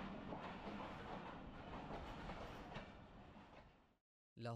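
Train rolling along rails on the journey from Lahore toward Jhelum, a steady loud rumble with rhythmic clickety-clack for about four seconds, then a brief gap and a new burst at the end.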